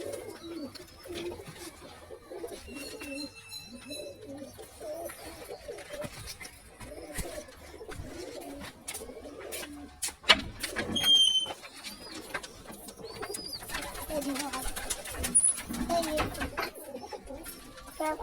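Pigeons coo steadily inside a pigeon house, with a newly bought Rampuri pigeon among them. The soft, overlapping calls run throughout, with a few higher chirps and faint talk in the background.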